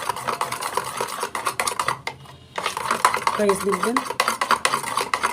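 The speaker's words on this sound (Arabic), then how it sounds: "هضرب الخليط ده كله مع بعض" A utensil beats goulash pastry batter in a bowl with rapid, scraping, rhythmic strokes against the dish, pausing briefly before resuming, while a voice speaks softly over it.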